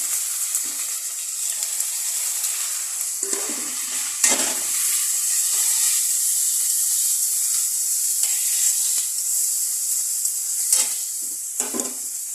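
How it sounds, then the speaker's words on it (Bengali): A steady sizzle of onion paste with salt frying in a pan, with occasional scraping stirs and a spoon clinking against the pan. "ভালো করে ভাজা ভাজা হোক।"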